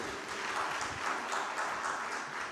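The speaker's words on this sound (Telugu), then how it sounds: "నమ్మేవారు మాత్రం చప్పట్లు కొట్టండి." Audience applause at a Christian meditation gathering on the cross, steady and sustained through the whole stretch with no talking over it.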